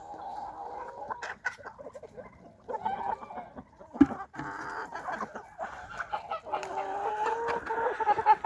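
Chickens clucking nearby, a steady mix of low clucks and drawn-out calls from several birds, with a sharp knock partway through.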